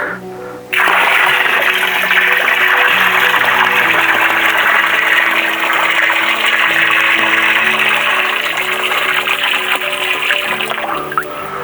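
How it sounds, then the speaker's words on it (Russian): Dissolved fertilizer solution poured into a watering tank on a farm, a steady, full gush of liquid splashing close by for about eleven seconds without pause. "Выливаем в бак для полива."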